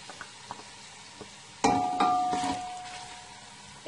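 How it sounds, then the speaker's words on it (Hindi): Chow mein ingredients fry over a high flame in a home kitchen, starting from near quiet with a few faint clicks, then erupting into a loud, steady sizzle with scraping and stirring that gradually eases off. "हम इसे हाई फ्लेम पर जो है वो फ्राई करेंगे"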